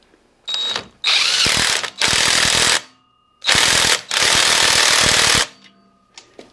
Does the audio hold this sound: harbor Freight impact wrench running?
yes